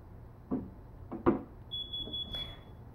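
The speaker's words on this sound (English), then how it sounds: "I think my sister's resetting the alarm" A house alarm beeps while being reset: a few soft thumps and clicks, then a sustained high electronic tone lasting about a second, fairly quiet and indoors, with no talking.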